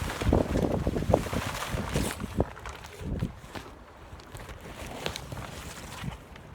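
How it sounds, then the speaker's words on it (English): Strong wind gusts outdoors during tent setup, rumbling buffeting on the microphone that surges loudly at first, then eases to lighter gusts, with rustling and handling noises mixed in. "Oh, it's so windy."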